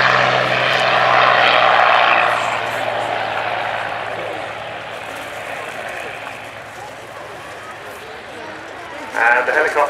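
A P-40 Kittyhawk fighter plane's propeller engine roars loudly at Cosford, then fades to a steady distant drone, with a voice speaking over it.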